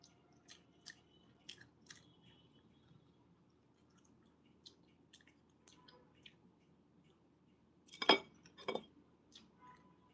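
Quiet eating of rice with cutlery: faint scattered taps and chewing, then a brief bright cluster of metal-on-dish clinks near the end, followed by a couple of softer clinks.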